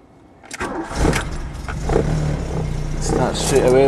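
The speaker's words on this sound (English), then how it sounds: "I'll just try and start it for you." A VW Scirocco GTX with a DX engine cranks and catches after a half-second pause, then settles into a steady, slightly rising idle, close by, with a voice talking.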